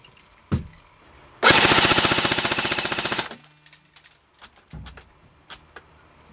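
A JG Sig550 airsoft rifle fires one sharp shot, then a long fully automatic burst of rapid, evenly spaced mechanical cracks lasting nearly two seconds, followed by faint handling clicks, close and without speech.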